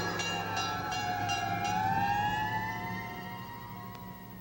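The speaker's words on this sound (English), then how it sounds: "Fire engines are really loud, aren't they?" A fire engine siren passes with a loud, steady wailing tone that slowly rises and falls, easing slightly as it moves away near the end.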